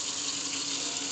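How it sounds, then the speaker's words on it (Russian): Water runs from a kitchen tap with a steady, close hiss as a wall-mounted Ferroli Diva C gas boiler starts up after control board repair, brief and without talk. "Запускаю, открываю воду."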